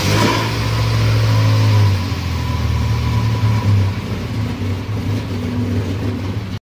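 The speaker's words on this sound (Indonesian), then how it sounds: "denger idle-nya kayak gini aja. Knalpotnya coy." A Toyota Vios 2014 with a 1NZ-FE engine and racing camshaft idles, its exhaust giving a loud, steady, rumbling note with a slightly uneven pulse throughout, close up and without talk.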